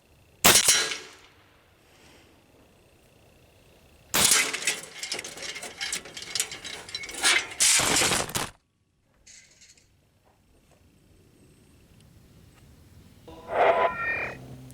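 An AEA Terminator semi-auto PCP air rifle in .30 or .357 caliber fires outdoors, sharp cracks followed by bursts of metallic ringing and clatter from struck targets, separated by quiet stretches.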